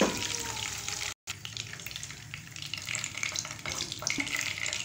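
Gola kababs frying in hot oil, a steady crackling sizzle at moderate level with small bubbling pops, briefly cut off for a moment before resuming.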